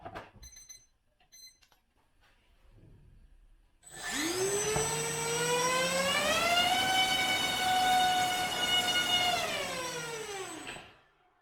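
A 2500 KV brushless motor on a 3S battery spins up for a thrust test: a loud, pitched electric whine rises sharply, holds steady for several seconds, then winds down, preceded by a few faint beeps.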